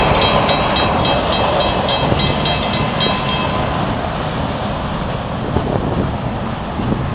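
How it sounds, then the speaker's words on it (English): An FEC freight train rushes past at close range, a loud, steady roar of rumbling wheels and wind buffeting the microphone, with no talk. "That was the quickest train I've ever seen"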